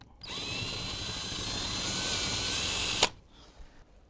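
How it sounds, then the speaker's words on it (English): A power drill whines steadily for about three seconds, boring a hole about 40mm deep into a hard masonry wall, then cuts off abruptly with a brief clunk. "we're going to drill a hole into the wall approximately 40mm deep"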